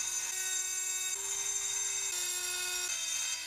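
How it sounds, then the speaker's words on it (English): Dremel rotary tool steadily grinding down a steel dowel pin in a turbo housing, a continuous high whine whose pitch steps slightly up and down as pressure changes. "I have to grind away this dowel pin with the Dremel very, very carefully."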